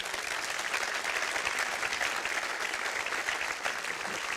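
A room full of people clapping steadily, a dense, even wash of applause that holds at the same level throughout with no voices over it.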